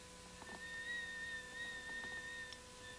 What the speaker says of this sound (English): my tea kettle is whistling